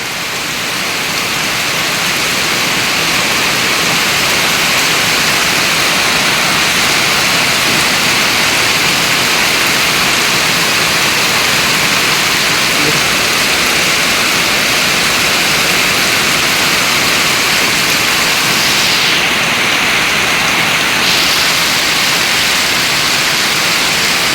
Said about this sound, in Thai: ฝนตกหนักฝนตกแรงมาก ๆ เลยครับ